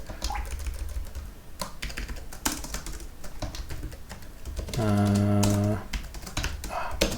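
Rapid keystrokes clatter on a computer keyboard in uneven bursts, with a short low hum partway through.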